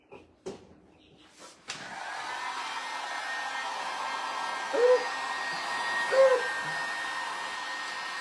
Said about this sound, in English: Let's use our heat gun, dry that just real quick